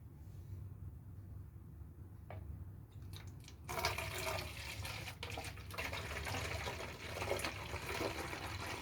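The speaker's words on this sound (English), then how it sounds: "I'll be pouring this 1 liter water in this bottle" One liter of water splashes and gurgles steadily into a 2-liter bottle, starting after a quiet moment and continuing as a rushing pour.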